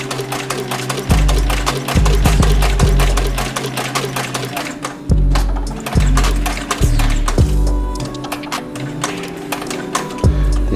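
A TechSew 5100-SE sewing machine stitching 37oz waxed canvas for a dopp kit, loud rapid needle hammering in bursts with heavy low thumps and brief pauses, close up, no talking.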